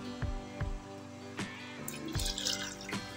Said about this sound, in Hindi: ये पानी डाल देंगे इसमें।